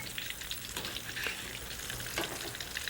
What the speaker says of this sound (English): when you deep fry eggplants in oil or ghee